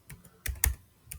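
Keys on a computer keyboard are tapped in a quick short run of about five clicks, a couple louder than the rest, close and clear with no voice over them.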